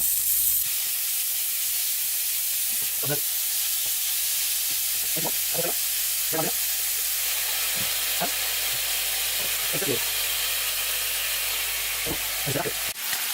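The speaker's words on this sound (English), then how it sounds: "once the oil's simmering, chuck in about 250 grams of mincemeat" About 250 grams of mincemeat frying in simmering oil gives a constant close sizzling hiss, broken by a scattering of soft scraping stirs and pops.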